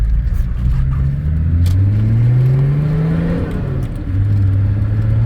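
Volvo 760 turbo diesel car accelerating on a private test track, engine pitch climbing steadily through the gears from inside the cabin, smooth and fairly loud.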